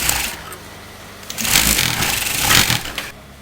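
A sewing machine stitches a kurta in short bursts, its needle running in a rapid, close mechanical whir that speeds up and slows between pauses.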